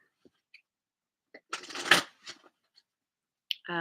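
Oracle cards from the Wisdom of Avalon deck being shuffled and handled, a close, soft papery riffle lasting about a second with a few light taps and rustles before and after, no talking.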